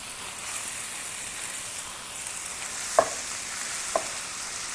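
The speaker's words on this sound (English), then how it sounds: "now I am going to put our ground beef" Ground beef frying in a pan for low-carb picadillo, a steady soft sizzle with two sharp crackles or stirring taps toward the end, close and unaccompanied by speech.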